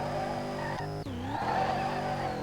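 A BMW M3 E46 with an S65 V8 swap sliding in SLRR: steady engine drone with a brief dip and rising tone as the car slides, faint tire squeal underneath, no voices.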